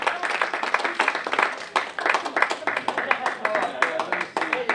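Scattered clapping from a convention plenary audience, a steady run of sharp individual claps continuing throughout, close and fairly loud.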